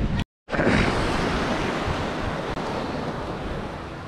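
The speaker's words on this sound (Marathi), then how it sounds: "आता ह्या ज्या पाण्याच्या लाटा दिसतात" Sea waves surging onto Devbag beach on the Konkan coast, a steady loud wash of surf with wind buffeting the microphone, broken by a brief dropout near the start.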